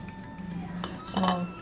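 Tomato vadam batter is stirred in a metal vessel, with soft scraping and clinking of a spoon against the pot close by, quiet and short, ending in a brighter clink.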